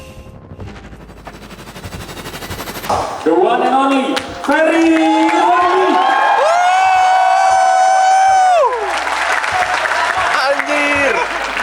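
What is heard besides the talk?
audience applause on campus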